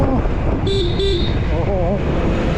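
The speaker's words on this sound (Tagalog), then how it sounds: "Ang laki mong ADB pero ang liit ng busina mo." A Honda ADV 160 scooter horn gives two short toots close by, mixed into steady traffic and engine noise with people talking over it.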